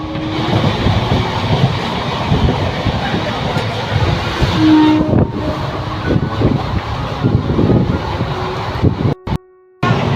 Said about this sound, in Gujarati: ટ્રેન આવી ગઈ છે ને આપણે ટ્રેનમાં બેસી ગયા